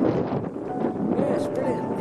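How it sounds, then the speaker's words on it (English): Outdoor wind buffets the microphone on a walk through woodland, a steady low rushing roar that runs throughout, with a voice talking over it. "Yeah, windy."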